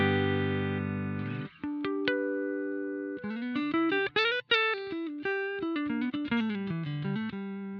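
Clean electric guitar tone from a Fender Stratocaster through a Fender tube amp and Boss RV-500 pedal: a held chord rings out, then plucked single notes and short chord stabs follow in an uneven, melodic pattern, clear and close with no talking.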